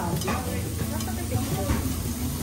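Frozen pork and cabbage cooking on a Korean BBQ grill at a Seoul samgyupsal restaurant, giving a steady sizzle and hiss under a busy room where people talk nearby.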